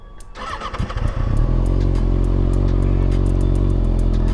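A motorcycle engine is started up close: a clattering starter crank catches after about a second and settles into a loud, steady, rumbling idle.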